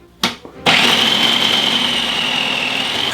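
Electric grater shredding cheese for a breakfast burrito; after a couple of brief thumps, a loud, steady high-pitched motor whine starts and runs continuously to the end.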